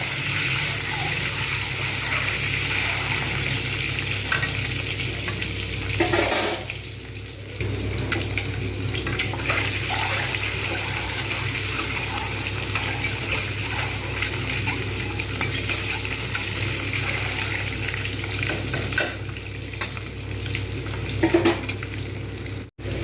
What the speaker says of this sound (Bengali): একটু করে খুব সুন্দরভাবে ভেজে নেবো